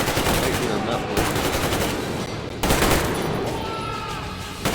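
Rapid automatic gunfire in a shooter video game, dense bursts of loud shots running almost continuously with a sharp cluster near the middle and faint game sounds around them.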